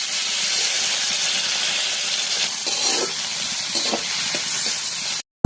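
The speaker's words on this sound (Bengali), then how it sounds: "এখন ধুন্দুলগুলো ভেজে নিব" Ridge gourd frying in mustard oil in a wok: a loud, steady, close sizzle and hiss with a few faint stirring knocks, cutting off abruptly at the end.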